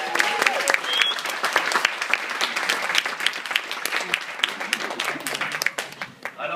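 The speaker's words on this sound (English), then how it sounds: "So can you give him a big round of applause to the group?" Wedding guests applaud during a groom's speech, a lively round of dense clapping with distinct sharp claps standing out, loud and sustained, tapering slightly toward the end.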